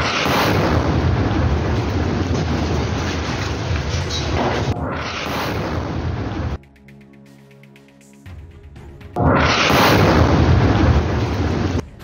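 A booby-trapped building blowing up in Jabalia, Gaza: a huge, loud roaring blast that rumbles for several seconds, breaks off into near-silence, then comes back as another heavy roar.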